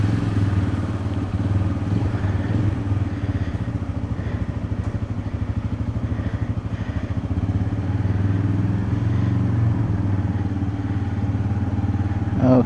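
A motorcycle running with no exhaust fitted, riding through a flooded street during heavy rain in Dhaka, a loud steady throbbing engine rumble close by with faint clatter over nearly thirteen seconds.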